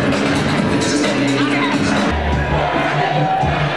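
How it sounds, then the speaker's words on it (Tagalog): Boxing fans cheer and shout for Pacquiao, a loud dense crowd roar of mixed voices and yells that stays constant and close throughout. "lalong lumakas ang hiyawan ng mga fans"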